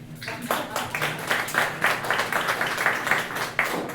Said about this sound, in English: all I want you to do as a crowd is clap along and cheer if you've heard it before